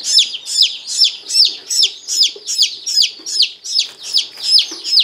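Baby chicks that have just arrived by mail chirp in a steady, rapid series of high peeps, about two per second, close and clear, with no talking over them.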